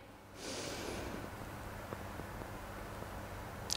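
A deep, steady in-breath during a group breathing exercise at a theatre drama workshop: a soft, airy rush of breath that starts abruptly after a brief quiet moment and holds evenly for several seconds.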